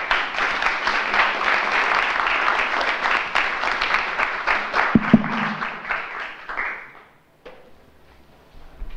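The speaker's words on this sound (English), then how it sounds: "if you could give another round of applause" A seated audience at a talk on a contemporary African art magazine breaks into sustained applause, a thick, even wash of many hands clapping that fades out after several seconds, followed by a few faint knocks.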